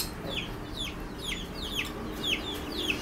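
A chicken among caged pet birds gives a series of about six short, sharp clucking calls at a steady rhythm, fairly faint over a low background hum.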